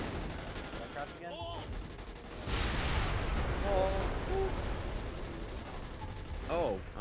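Loud, dense shotgun fire and chaotic combat noise from a video game, with sustained bursts and blasts while players talk over it.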